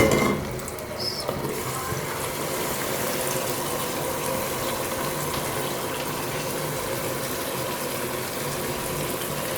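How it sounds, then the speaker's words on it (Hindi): Boiled rice tipped into hot sugar syrup for mutanjan sets off a steady, dense sizzling hiss that starts with a brief thud and continues evenly and close throughout, without talking. "जी ये देखिए चावल हमारे हो गए हैं बॉयल। अब मैं इनको डालूँगी चाशनी में।"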